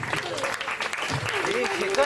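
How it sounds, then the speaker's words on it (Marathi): An audience at a stage event claps in a sustained, even round of applause while a voice talks over it. "सर्व रसिक प्रेक्षकांनी जोरात टाळ्या वाजवून स्वागत करा"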